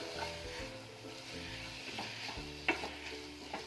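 Oats kichadi with vegetables such as broccoli and green peas stirred in a pan, soft scraping strokes over a low sizzle, with a brief knock of the spoon against the pan.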